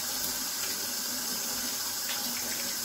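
Tap water runs steadily over garlic being rinsed at a kitchen sink, a continuous close hissing splash with no talk.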